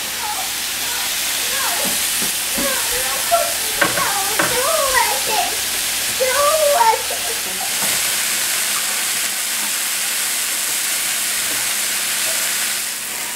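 Onions fry and get stirred in a pan while pork steak donburi is being cooked, a steady close sizzle and hiss with spatula scrapes and a few clinks, and voices talking over it for the first half.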